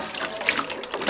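Water poured or running for a puppy's first bath, a steady broadband splash and gush lasting about a second with no talk over it.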